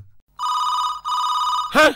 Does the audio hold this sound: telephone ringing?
yes